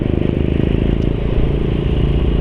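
A Yamaha NMAX scooter with a CVT transmission runs steadily at high revs, producing a loud, close, even engine drone with a fast pulsing beat and no change in pitch throughout.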